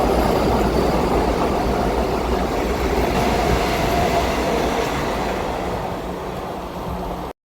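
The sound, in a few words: Ernakulam–Bangalore Vande Bharat train passing station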